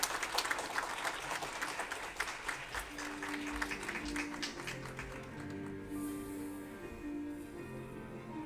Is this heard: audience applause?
yes